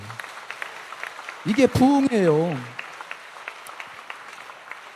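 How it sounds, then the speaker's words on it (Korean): A church congregation applauding during an evening revival meeting, a steady wash of clapping throughout, with a voice briefly speaking over it midway. "박수."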